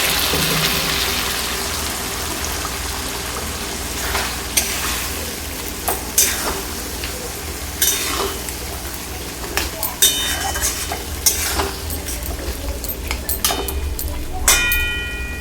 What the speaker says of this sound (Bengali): এখন আমি মাংসগুলি সব এর মধ্যে ঢেলে দেব।